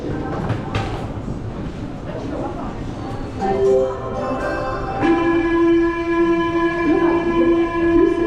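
Small metro train in Toulouse running on its line, a steady rumble with rising electric motor whine that sets in midway and stays clear and close, while a voice talks over it.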